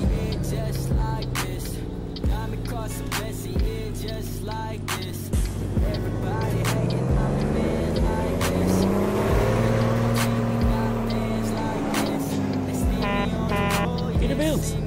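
A Peterbilt truck engine in American Truck Simulator revs and drones steadily throughout, its pitch climbing and falling through gear shifts, loud and close with someone talking over it.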